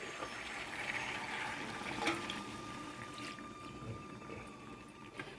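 Water poured into a pan of thick fried chicken curry, a steady moderate watery wash running throughout, with a brief splashy surge near the middle and no talk.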